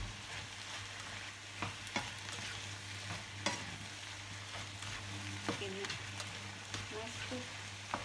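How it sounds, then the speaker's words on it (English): Tomatoes and sweet corn cooking in a pan for a Chinese noodle dish, with a quiet steady sizzle and occasional sharp clinks and scrapes of stirring, without talking. "when you're cooking my tomatoes, I put some sweet corn in it"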